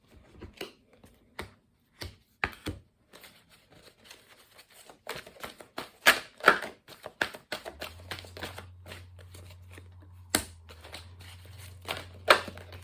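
Crisp card snaps and riffling clicks come from a deck being handled close by, sharp and irregular at first, then bunching into quick flurries over a faint low hum.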